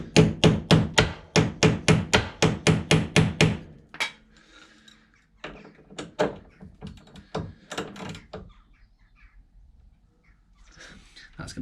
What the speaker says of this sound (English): by whacking a socket onto it, you kind of shock the thread a little bit